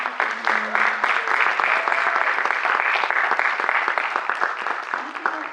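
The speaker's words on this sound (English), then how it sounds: "Let's give them a round of applause." Audience applause at a film festival in Los Angeles, a dense, steady wash of many hands clapping that fills the room from start to finish, with a brief low murmur near the start.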